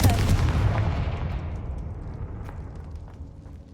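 A Confringo fire blast spell is cast in Hogwarts Legacy, a loud booming burst that erupts at once and then rolls off in a long, fading rumble.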